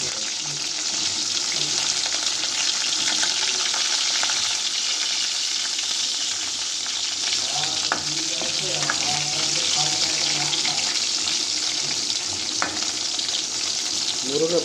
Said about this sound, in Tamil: முருங்கை ஃப்ரை பண்ணால் கொஞ்சம் நல்லாயிருக்கும்